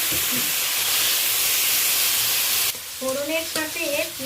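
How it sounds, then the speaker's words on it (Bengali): Grated onion and tomato hit hot oil tempered with panch phoron while a catfish and potato curry is being made, giving a loud, steady sizzling hiss that suddenly drops to a softer frying sound with stirring. "এই পর্যায়ে আমি গ্রেট করা পেঁয়াজ আর টমেটোটা দিয়ে দিচ্ছি।"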